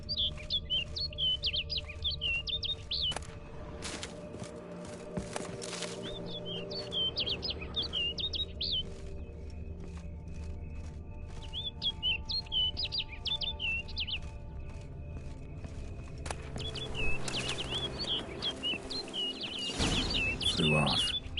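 Bird chirping in a Witcher-style fantasy video game: bursts of high, rapid tweets come and go over a steady ambient drone, with a low voice speaking in between.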